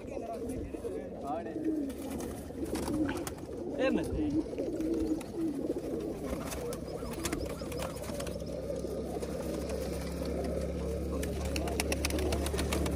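Pigeons in a big cage coo softly and repeatedly against a low background, while people talk nearby.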